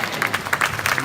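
An audience at an awards and dinner gala claps along in a brief, rhythmic burst of handclaps that lasts about a second.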